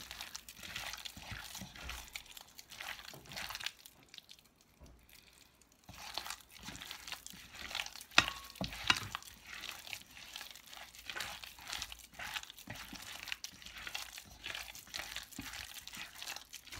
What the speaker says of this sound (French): On remue bien.